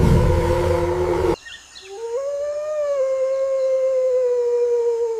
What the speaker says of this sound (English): there is the resounding roar of the howler monkey